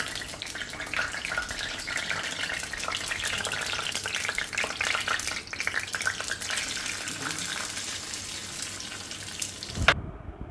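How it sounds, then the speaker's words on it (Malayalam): Raisins and cashew nuts frying in ghee in a pan, with a close, continuous bubbling sizzle and light stirring throughout that stops abruptly at the end. "നെയ്യൊഴിച്ച് മുന്തിരിങ്ങയും അണ്ടിപ്പരിപ്പൊക്കെ ചേർത്തെടുക്കുക."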